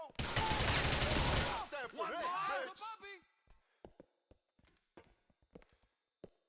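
Grand Theft Auto IV shootout gunfire: a dense burst of rapid shots for about a second and a half, then scattered single gunshots and sharp impacts with brief gaps, loud up close and fading to sporadic cracks.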